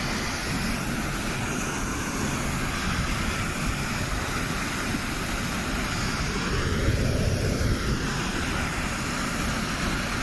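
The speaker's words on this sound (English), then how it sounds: "There's the waterfall there." Leap waterfall in Ireland, heard from high up above the drop: a steady, dense roar of falling water fills the whole clip evenly, with no voices.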